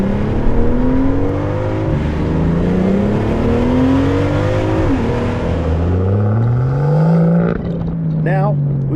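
A tuned V12 BMW 760i making over 700 horsepower accelerates hard, its engine note rising in repeated pulls through the gears, loud and close, with a sharp whine near the end.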